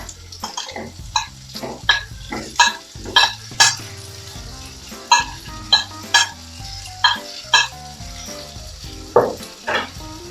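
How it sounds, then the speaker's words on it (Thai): Tofu and chopped preserved radish sizzle in a hot pan for pad thai while a utensil scrapes and stirs in quick repeated strokes, close and loud, with no voices. "ผัดให้สุกผัดให้หอมนะคะ"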